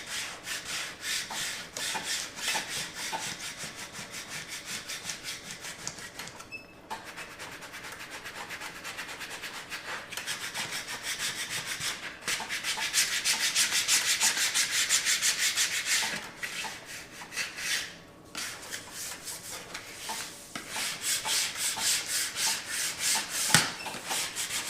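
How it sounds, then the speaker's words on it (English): A squeegee burnishing down airbrush mask film, long dry rubbing strokes close up, swelling and fading in repeated passes with short pauses between them. "I do like to take a squeegee and make sure I burnish this down well"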